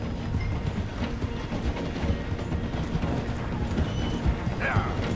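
A train slows as it passes through a station in Red Dead Redemption 2, producing a steady, rhythmic mechanical clatter and rumble at moderate level with faint voices underneath.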